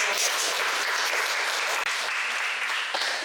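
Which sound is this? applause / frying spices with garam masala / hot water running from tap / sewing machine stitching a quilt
applause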